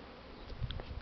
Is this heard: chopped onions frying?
no